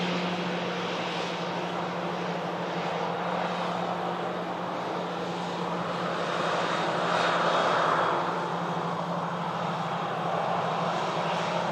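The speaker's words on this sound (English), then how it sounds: "There's the Ryanair that's just come in. 737-800 series." A Ryanair Boeing 737-800 jet at Manchester Airport gives a steady, broad engine roar that holds level and swells slightly toward the end, heard alone from a moderate distance.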